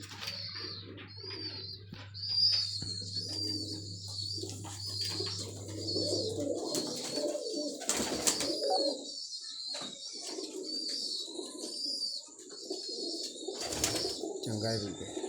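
Pigeons cooing in low, throaty murmurs, with people talking nearby and occasional wing flutters and rustling.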